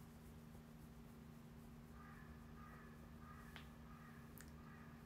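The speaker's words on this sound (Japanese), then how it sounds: "カラスも鳴いとるわ。" Crows caw several times in the early morning, faint and distant, over a steady low hum, with no voices.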